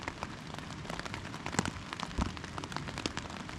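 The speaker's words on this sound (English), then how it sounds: "it's been raining for the last 4 or 5 hours" Dense patter of rain drumming on a cramped one-person tent at a motocamp in Hancock, New York, with sharper individual drops tapping close over a steady hiss.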